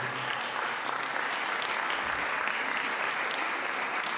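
Strong, steady audience applause for a choir and orchestra of a folk ensemble at a concert hall, dense continuous clapping from a large crowd throughout.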